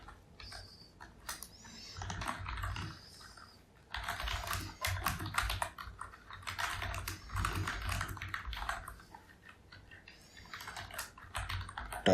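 C++ code typed on a computer keyboard, bursts of rapid close key clicks separated by short pauses, fairly quiet with no talking.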